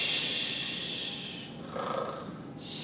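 Slow, heavy breathing with a snorting, snore-like quality, close and steady, sounding like a person imitating sleep.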